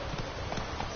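The horse Roach runs in Witcher 3, with quick hoofbeats clopping close and fairly loud over a dense game soundscape, and no clear speech.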